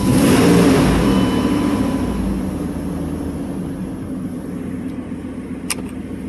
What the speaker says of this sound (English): Let's start it up and then check the oil level.